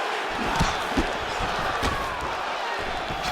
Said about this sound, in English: The crowd's going crazy because they appreciate high-level mixed martial arts